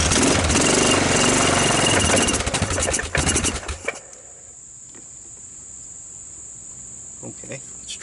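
A small ATV engine fitted with a homemade capacitive discharge ignition runs loud and steady for about three seconds, then cuts out. A faint high steady whine lingers afterward over quiet background.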